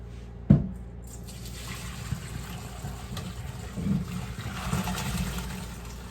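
Boiled macaroni drained and rinsed under running water in a kitchen, opening with a sharp clunk and settling into a steady splashing pour with sloshing swells.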